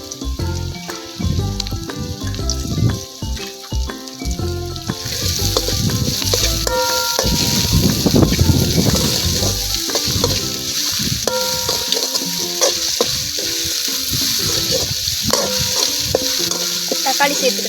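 Ginger and garlic fry in a pan with a steady, loud sizzle and hiss while a spoon stirs through them in repeated scraping strokes, close up and continuous, with no voices.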